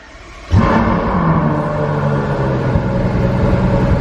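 Lamborghini Huracan with an open-valve exhaust, 21,000 miles, bursts into life with a loud sudden start-up roar, then settles into a steady, rumbling idle that carries on alone.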